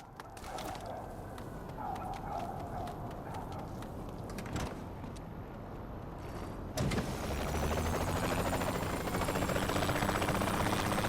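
A helicopter from Saints Row The Third Remastered whirs steadily on its own, a continuous broadband engine and rotor roar that swells louder partway through and holds.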